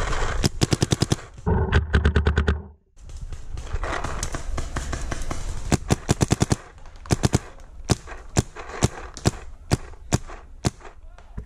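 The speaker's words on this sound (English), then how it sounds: "So right now I'm shooting at two guys in that tower and one guy behind the blue barrel." Paintball guns fire during a woodland game, with fast rapid-fire bursts of sharp pops early on and then spaced single shots, loud and near, some echoing among the trees.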